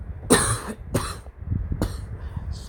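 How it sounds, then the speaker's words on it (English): A person coughs three times in quick, harsh bursts close to the microphone, with short pauses between them. "Excuse me for all this coughing."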